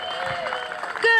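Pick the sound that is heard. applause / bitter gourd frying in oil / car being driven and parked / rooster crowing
applause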